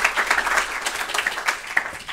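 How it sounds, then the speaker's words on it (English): Audience applause welcoming a keynote speaker at an international commercial arbitration event, a steady patter of many hands clapping at moderate distance. "Ladies and gentlemen, join me in a round of applause to welcome Mr."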